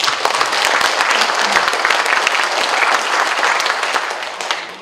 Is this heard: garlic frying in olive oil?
no